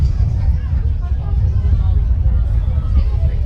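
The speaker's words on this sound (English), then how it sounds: "There's a big crowd here behind us" A large crowd murmurs and hums steadily throughout at a football final, a dense, continuous babble with low rumble, with no distinct cheers standing out.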